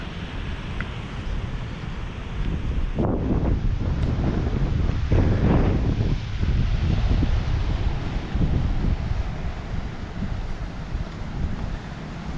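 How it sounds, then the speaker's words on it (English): Strong wind buffets the microphone on a driftwood-strewn ocean beach on a Georgia barrier island, a loud, continuous rumbling roar with heavier gusts surging midway and surf blended underneath. "it's pretty windy and I forgot my microphone"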